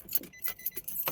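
Car keys jingle briefly and brightly in a quick cluster of metallic clinks as the ignition of a Nissan Navara pickup is switched on, close and fairly quiet.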